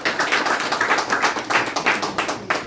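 A small audience at a literary café event claps for a guest in a close, rhythmic burst of hand claps, fairly loud and even, with individual claps distinct and no talking over it.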